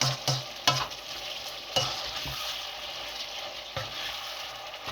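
Mutton mixed with turmeric in a hot pan, a continuous frying hiss with a few scraping strokes and knocks of a spoon on the pan, near and moderately loud, no voices.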